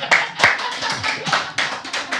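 A small audience breaks into a quick round of clapping during a talk-show taping, with uneven, close hand claps spread over a couple of seconds.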